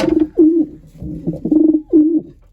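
A racing pigeon coos in a loft, giving several close, loud, throaty rolling coos in a rhythmic series with brief pauses between them, and no voices.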